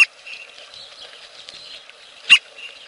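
Short chirpy bird call from a Dinosaur Train cartoon game, two quick bright bursts separated by a faint high twittering hum, with no talking.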